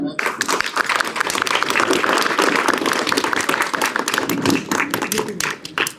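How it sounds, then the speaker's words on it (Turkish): Audience at an Islamic exhibition opening breaking into loud, dense applause that starts abruptly and carries on steadily for several seconds, close and full, with voices mixed in. "Ellerim patlayıncaya kadar alkışlıyorum."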